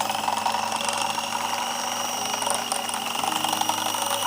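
Electric hand mixer beating sponge cake batter at high speed, a steady whining motor drone with a faint rattling texture running unbroken throughout; no talk.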